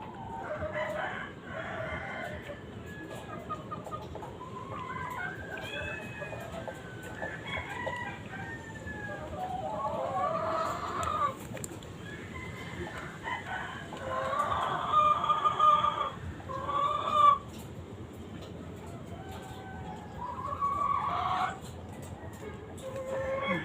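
A hen with a prolapsed vent clucks and croons on and off at close range, with scattered low murmurs and handling noise around it.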